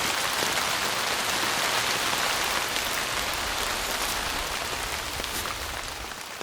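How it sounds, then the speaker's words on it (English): Steady rain drums on a tarp at a remote canyon campsite, a dense, even hiss of drops that holds loud and continuous throughout, easing slightly toward the end, with no voices. "This rain is coming on just as I was finishing up dinner."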